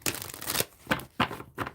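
A deck of tarot cards is shuffled in several quick bursts: one longer riffle followed by three shorter ones, close and crisp, with no talking.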